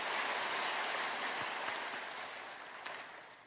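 Congregation applause during a Sunday worship service in a large church, a broad even wash of many hands clapping that holds steady and then slowly fades, heard from some distance.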